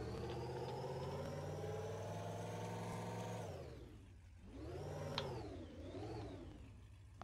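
Engine hum of a car in the Roblox game Retail Tycoon 2, held steady and then sweeping down and back up in pitch as the car drifts around a turn, with no talking over it.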